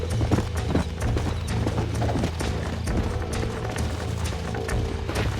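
Galloping horse hooves in Red Dead Redemption, a steady rapid clip-clop rhythm running throughout at close range, over a low rumbling game backdrop.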